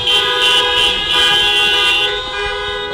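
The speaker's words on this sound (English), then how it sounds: "Honk your horn for Michelle." Car horns honk in sustained overlapping blasts, loud and close, fading slightly toward the end, with no talking.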